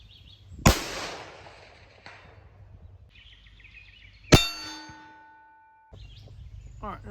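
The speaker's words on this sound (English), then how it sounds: "And now we're gonna shoot, this is 400 yards." Two rifle shots from a .224 Valkyrie loaded with Hornady V-Max varmint ammunition at a steel target 400 yards off, each a loud crack with a ringing metallic clang and a trailing tone, spaced a few seconds apart outdoors.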